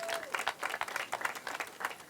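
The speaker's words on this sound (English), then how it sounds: "let's give the city a big round of applause" An outdoor Bike to Work Day crowd gives a round of applause, with close, crisp claps in quick uneven bursts over a couple of seconds.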